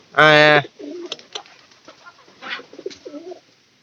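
A loud burst of cooing comes first from domestic pigeons in a loft where the birds have started laying eggs. Softer, scattered coos and bird sounds follow under quieter human voices.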